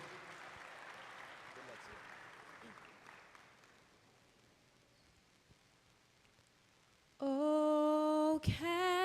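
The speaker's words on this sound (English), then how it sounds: "Let's give her another round of applause as she makes her way to center stage." Audience applause in a basketball arena at a women's summer league game as the anthem singer walks to center stage, a faint, diffuse wash of clapping that fades before singing abruptly begins loud and close.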